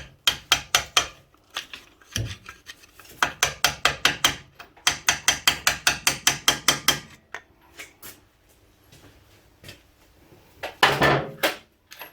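Rapid bursts of sharp metallic taps with a hammer on a Triumph Bonneville T140 engine part during engine removal, several quick runs of blows with short pauses, close and fairly loud.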